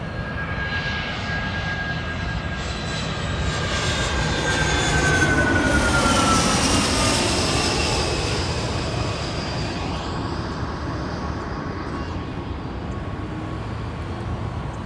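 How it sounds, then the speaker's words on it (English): A 29-year-old Gulfstream business jet arriving at Los Angeles International Airport from Van Nuys gives a loud, close jet roar whose whine rises and falls as it passes, peaking midway and then fading slowly. "29-year-old Gulfstream coming in here from Van Nuys."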